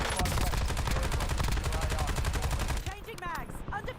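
Rapid automatic gunfire in Warzone, a dense, loud sustained burst of evenly spaced shots for most of the clip, then it cuts off into quieter game sounds.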